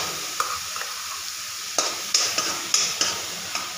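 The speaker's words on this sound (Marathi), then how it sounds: "करपायच्या आधी आपण ह्याच्यात टमॅटो प्युरी ॲड करणार आहोत." Tomato puree hits hot spices in a pan, giving a steady sizzle with several sharp spoon scrapes and stirring knocks on top, close and fairly loud, with no talking.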